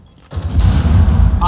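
Gunfire in the video game Rainbow Six Siege, a sudden loud, sustained burst of rapid shots that starts after a short quiet moment and continues to the end.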